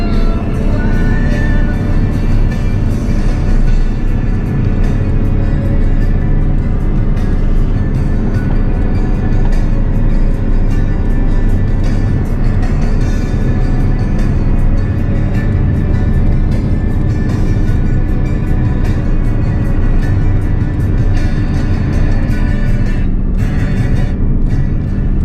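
A 24-year-old truck with an 8.1-litre gas V8, towing 18,000 pounds up a mountain pass, drones loudly and continuously, a heavy low engine roar with road and wind noise and no break.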